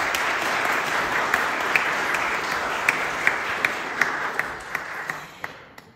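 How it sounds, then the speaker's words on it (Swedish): Warm audience applause in a church at a Christmas concert, a dense sustained clapping from a crowd with a few distinct claps standing out, fading toward the end. "Så ge en varm applåd till Daniel Stenbäck."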